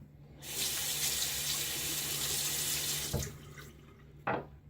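Tap water runs steadily into a sink while rinsing after a shave with a Gillette Nacet blade, a continuous close splash that cuts off near the end, followed by a brief second burst.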